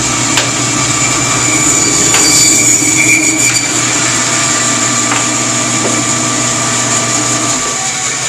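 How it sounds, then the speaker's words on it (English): A meat saw runs steadily while splitting a hog carcass into cuts like the picnic and Boston butt, a loud continuous mechanical whine with high ringing tones and occasional sharper clicks throughout. "I'll shut the saw off so you can hear me a little bit better."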